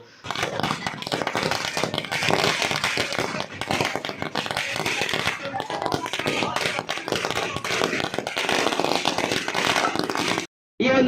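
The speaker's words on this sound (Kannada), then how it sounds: "ಹೆಬ್ಬಾಲೆ ಸರ್ಕಲ್ನಲ್ಲಿ ಪಟಾಕಿ ಸಿಡಿಸಿ" Rapid dense crackling of firecrackers bursting continuously for about ten seconds at a village celebration at Hebbale Circle, loud and close, cutting off briefly near the end.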